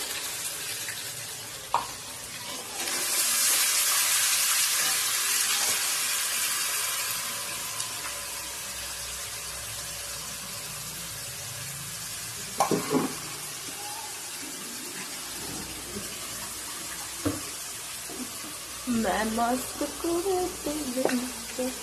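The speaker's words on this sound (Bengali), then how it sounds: "এবার পেঁয়াজ দিলাম," Onions fry in a hot pan after the vetki fish has been fried, starting with a loud burst of sizzling that slowly fades into a softer hiss, followed by occasional stirring clatter and someone talking near the end.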